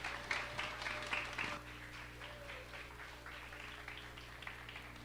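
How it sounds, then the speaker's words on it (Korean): Welcoming applause for a visiting pastor at a church middle-school worship service, scattered and fairly faint, loudest in the first second and a half and then thinning into sparse claps over a steady low hum. "그래서 나오실 때 환영의 박수로 모시도록 하겠습니다."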